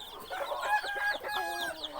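A Burmese fighting rooster clucks in quick, repeated bursts, close and fairly loud, with a few throaty calls strung together and no voices.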